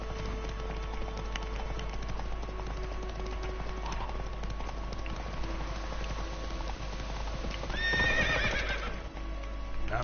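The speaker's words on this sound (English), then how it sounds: "Whoa there, Roach." Roach, a horse in The Witcher 3, neighs with a loud whinny near the end, over steady clip-clop of hooves and a constant game ambience throughout.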